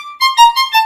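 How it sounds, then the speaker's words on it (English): Violin spiccato bowed a little further from the bridge, a quick run of about four short bouncing bow strokes, close and clear after a brief sustained tone, with no talking. "I'm going to experiment with moving my stick or bow a little bit further away from the bridge"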